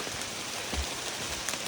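Steady rain falls on a hiking trail along the Appalachian Trail, a dense, even patter close by with no voices.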